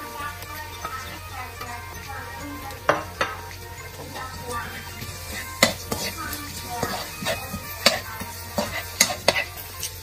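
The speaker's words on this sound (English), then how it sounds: "Let's saute the garlic until golden brown." Garlic and onion sautéing in a pan, with steady sizzling under scattered sharp clinks and scrapes of stirring, close and moderately loud, no talking.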